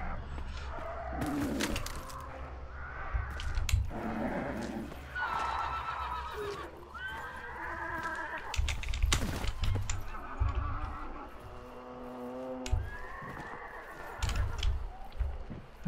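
A horse in the video game Hunt: Showdown neighs and whinnies repeatedly, with clip-clopping hooves and gunfire-like thumps scattered through a busy in-game soundscape; calls recur at irregular intervals, fairly close and loud.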